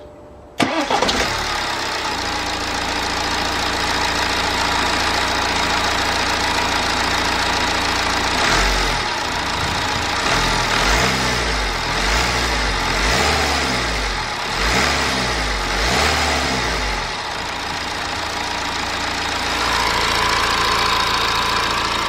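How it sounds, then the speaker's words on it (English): A diesel car engine with its intake manifold recently serviced cranks and fires, then settles into a steady, loud idle with some uneven, knocking pulses partway through before calming again. "just want to fire the engine up just to make sure we don't have any issues."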